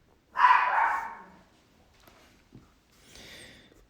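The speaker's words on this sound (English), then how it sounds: "And my dog is barking." A dog lets out one loud, harsh, drawn-out bark close by near the start, followed by faint scattered noises and a softer, higher yelp toward the end, with no talking.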